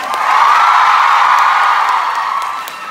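An audience at a musical concert screams and cheers in a loud, sustained wall of voices, swelling early and tapering gently near the end.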